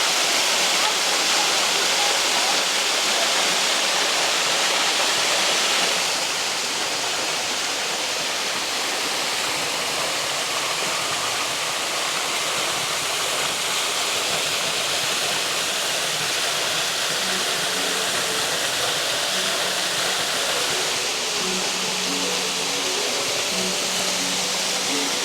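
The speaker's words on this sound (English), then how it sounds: "Really amazing waterfall. Kind of just wraps around and hugs the rocks on its way down." A waterfall in Wellington cascades over and around rocks, giving a loud, steady, broadband rushing roar that continues unbroken throughout.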